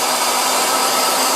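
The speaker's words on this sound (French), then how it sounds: "Un décapeur thermique, ça chauffe fort." A heat gun blasts hot air onto a painting knife, a loud, steady, close rushing whoosh that holds constant throughout with no voices.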